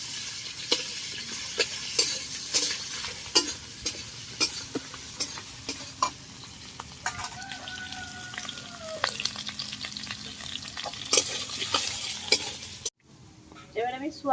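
Dalia khichuri with ginger stirred in a hot pan, a busy sizzle punctuated by frequent spoon scrapes and taps, close and fairly loud, before the sound cuts off near the end.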